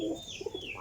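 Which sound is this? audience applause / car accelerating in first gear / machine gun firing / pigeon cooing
pigeon cooing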